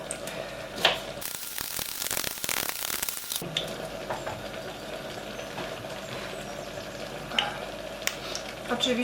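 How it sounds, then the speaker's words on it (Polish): Steady sizzling of onion frying in hot olive oil in a pan, close and continuous, with a brief burst of louder hissing early on. "Na patelni rozgrzeję oliwę i będę podsmażać cebulkę, czosnek, boczek wegański i stek wegański."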